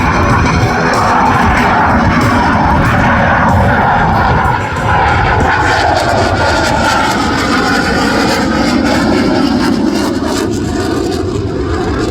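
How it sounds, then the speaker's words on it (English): A Royal Canadian Air Force CF-18 Hornet jet flies a slow dirty pass with gear and flaps down at Air Show Atlantic, its engines a loud, continuous, close roar that holds steady throughout. "This is the dirty pass by your Royal Canadian Air Force CF-18"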